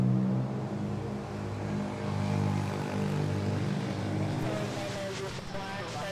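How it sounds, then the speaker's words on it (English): A Cebu Pacific Airbus A330neo airliner rolls along the runway at Manila airport, its engines giving a steady, loud, broad roar that swells and eases slightly, with a voice talking faintly over it. "the Cebu Pacific to Puerto Princesa, rolling an A330neo"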